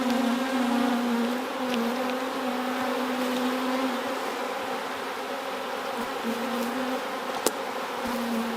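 Honeybees buzz densely around a hive frame full of developing workers, a steady close drone with slight wavering in pitch and one brief sharp click partway through.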